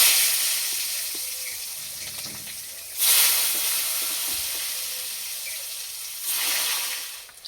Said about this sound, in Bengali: বেগুন ভাজার জন্য কড়াইয়ে তেল দিয়ে দেব। আজকে রান্নাটা সর্ষে তেলেই করব।